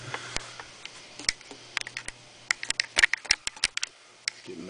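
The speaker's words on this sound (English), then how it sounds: "Getting the camera strap." Camera strap being handled: a series of sharp, close clicks and light rattles, irregular and spaced, growing busier toward the end over a faint low hum, no talking.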